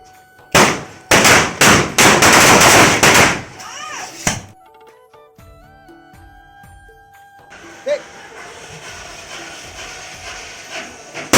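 Diwali firecrackers and bombs go off in a rapid run of loud bursts and crackles, then fade into scattered distant pops and hissing, with sparse background noise following.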